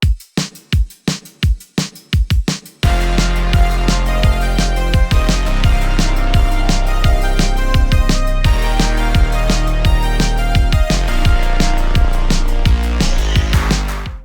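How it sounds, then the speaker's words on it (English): Punchy 80s synth-pop electronic drums, at first alone with sharp hits, then joined by a dense synth backdrop, snares ringing out with a big washy reverb tail. "And played together, our drums sound like this."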